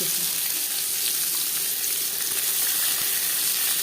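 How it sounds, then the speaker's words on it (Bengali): Panch phoron, chilli and bay leaf frying in a little oil, a close, continuous crackling sizzle with no break. "পাঁচফোড়ন লঙ্কার সাথে পনেরো কুড়ি সেকেন্ড পাঁচফোড়ন তেজপাতা ভেজে নেওয়ার পর দিয়ে দেবো পেঁয়াজ"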